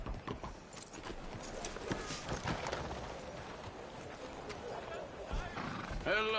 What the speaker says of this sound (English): You take good care of this horse